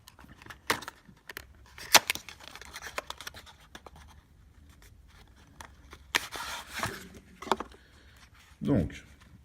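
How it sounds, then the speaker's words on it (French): Crinkling and scraping bursts of handling as an e-cigarette kit, a Just Fog Q16, is unpacked from its box, with irregular close rustles, taps and a louder thump near the end. "On va déballer tout ça."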